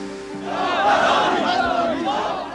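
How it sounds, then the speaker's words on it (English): Overjoyed crowds fill the streets of Tehran in 1979, producing a loud, sustained roar of massed cheering and chanting voices that swells and holds steady throughout. "in the streets of Tehran, the crowds are overjoyed"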